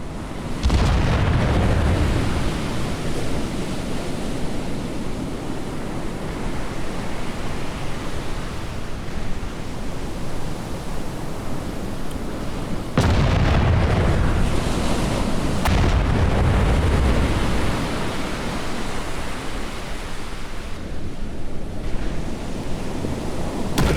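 Naval shell explosions in the Battleship Command warship game, heavy roaring blasts with long rumbling noisy tails, one at the start and another midway, over a constant wash like wind and sea.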